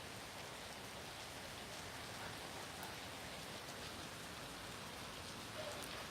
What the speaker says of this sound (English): It just started heavy rain.